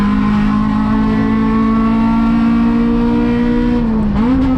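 Race car at Sonoma Raceway during a USTCC touring car race, engine droning loud and close at steady high revs before a quick dip and rise as it shifts into fifth gear.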